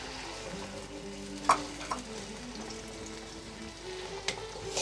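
Boneless chicken keema cut into small pieces hits a hot pan and fries with a soft, steady sizzle, broken by a few light clinks of stirring.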